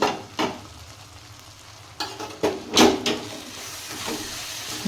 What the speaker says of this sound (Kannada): ಒಂದು 5 ನಿಮಿಷ ಇದು ಹಿಂಗೆ ಫ್ರೈ ಆಗಲಿ.